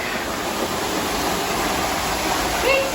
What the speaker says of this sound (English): there's water coming out of the bottom, which means the lock is full